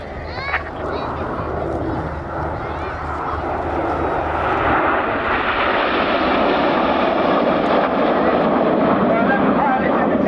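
Red Arrows jets roar past at the RAF Cosford Airshow 2025, a loud continuous engine rush swelling and holding over the whole stretch, with a commentator's voice over the public address partly beneath it.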